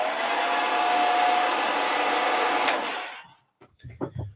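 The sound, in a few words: hair dryer blowing on a miniature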